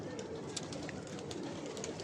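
A pigeon coos softly and at a distance, a few low calls set against a quiet background murmur.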